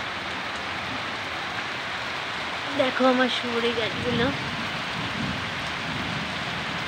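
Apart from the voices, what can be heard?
rain falling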